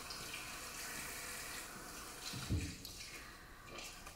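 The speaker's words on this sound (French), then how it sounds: "je vais venir rincer le tout" Tap water runs steadily into a sink while facial cleanser is rinsed off during a natural-product skincare routine, a faint close-up splashing hiss with one brief louder splash.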